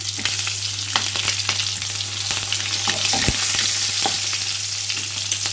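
Curry leaves and dried chillies fry in hot oil with cumin seeds, giving a steady, loud sizzle throughout, broken by scattered pops and a few scraping stirs of the pan, with no voices.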